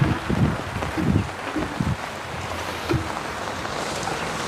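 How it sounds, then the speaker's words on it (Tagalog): Gusty wind buffets noisily, with rushing surges and low thumps against a steady roar, no talking. "Hala, ang lakas na ng hangin."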